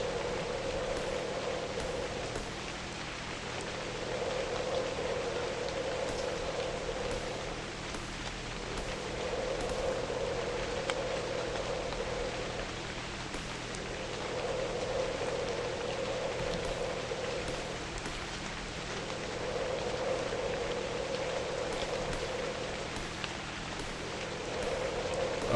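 Steady rain falling in the survival sandbox video game Novus Inceptio, a continuous hiss of drops with a softer droning tone that swells and fades in regular waves throughout.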